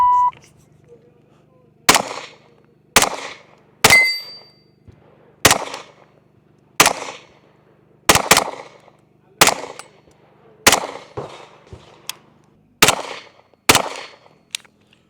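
A .45 pistol fires without a suppressor, about a dozen sharp, loud cracks. Each shot rings off briefly, with irregular pauses of one to two seconds between them.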